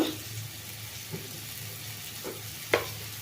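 Egg chilli masala frying in oil in a pan, a soft steady sizzle with a few brief stirring scrapes, close and fairly quiet, no talking.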